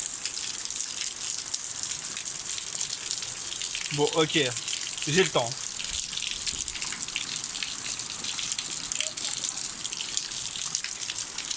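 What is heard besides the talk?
shower running water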